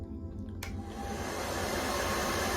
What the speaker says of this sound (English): there is a hairdryer as well supplied in your cabin. 2 speeds,